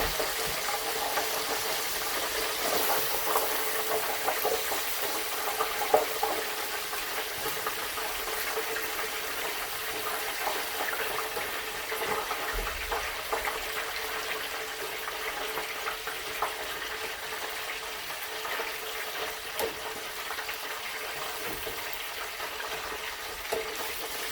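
Chicken pieces frying in hot oil for fried chicken sizzle in a steady, loud hiss that runs throughout, with faint stirring and turning noises as the pieces are flipped, no one speaking.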